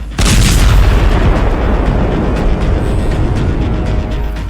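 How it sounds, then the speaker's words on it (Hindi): An Israeli missile strikes Lebanon in daylight, a loud booming blast with a sharp onset, followed by a sustained heavy rumble that fades only slightly over several seconds. "दिन के उजाले में लेबनान पर गिरी इजराइल की मिसाइल।"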